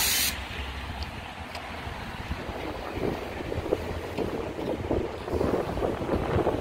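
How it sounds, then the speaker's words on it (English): Gusty wind blusters across the microphone at a downtown Chicago intersection of high-rises on a snowy day, with a continuous roar and rumbling buffets, loud and close throughout. "It's got a little bit windy here."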